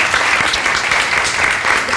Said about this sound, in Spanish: sério, uma salva de palmas para essa mulher